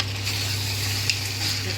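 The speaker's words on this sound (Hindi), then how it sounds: "थोड़ी देर गोश्त को तलेंगे" Mutton frying in a pot with garlic-ginger paste gives off a steady, close sizzle with a faint low hum beneath and no talking.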